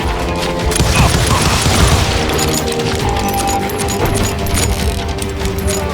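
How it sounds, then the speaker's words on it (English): Rapid gunfire and booming impacts from a street shootout in the Call of Juarez Gunslinger video game, loud, dense and continuous with crashes layered in. "They're shooting in the street!"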